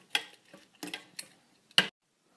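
Spoon stirring instant espresso into a reduced date mixture for sticky toffee pudding, a few short clinks and scrapes spaced irregularly, close and fairly quiet, no voices.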